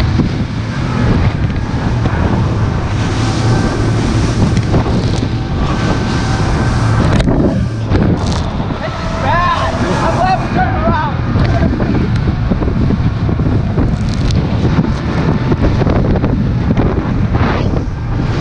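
A bass boat engine drones continuously while running on rough water on Lake Michigan, heavy wind buffeting the microphone and water slapping and splashing against the hull.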